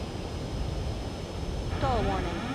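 Jet aircraft engine roar in Ace Combat 7, a steady broadband rush throughout, with a rising whine and warning tones entering near the end.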